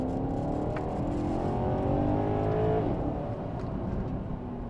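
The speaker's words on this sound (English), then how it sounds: "not many V8s bellow like this" Maserati GranTurismo V8 revving in manual mode with the exhaust valves open, a deep, continuous bellow rising and falling in pitch, loud and close with no talking.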